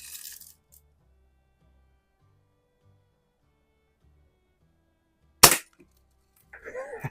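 A single sharp crack from a Daisy 499 BB gun firing at a target, loud and close, with a quiet stretch before it and faint handling noise afterward.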